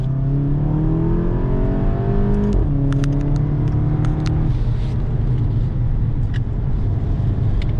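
A Volkswagen Golf VII GTI Performance engine revs up through rising tones, drops pitch at an automatic gear change in sport mode, then keeps pulling as it accelerates, heard loud from inside.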